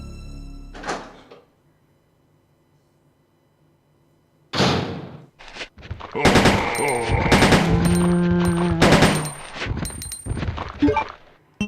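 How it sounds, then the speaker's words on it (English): Shotgun blasts in the game Resident Evil 2, a series of loud, close booming shots fired in quick succession with reload clacks between them, after a quieter opening thud. "Shotgun comes in extremely handy for this room."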